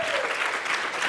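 Applause from a crowd at a business fireside chat, steady and fairly loud throughout a brief burst with no gaps.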